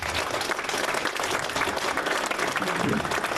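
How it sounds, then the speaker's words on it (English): An audience at an evening community gathering applauds a foundation: dense, steady clapping from many hands fills the room, loud and sustained throughout with no pause. "let's give them a round of applause"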